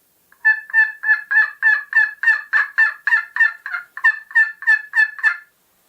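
A rapid string of about fifteen evenly spaced turkey yelps from a handheld turkey call, close and loud, each note with a purring rasp, stopping abruptly.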